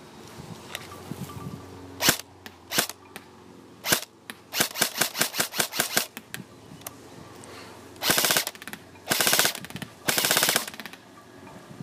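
A Classic Army SCAR-L Sportline airsoft rifle fires at a target about 75 feet away, with sharp single shots followed by rapid bursts of crisp snapping reports, loud and close.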